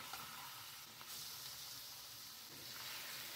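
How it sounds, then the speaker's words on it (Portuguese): Chicken fillets fry in oil in a pan with a steady, close sizzling hiss throughout and no talking. "agora a gente vai fritar o nosso frango"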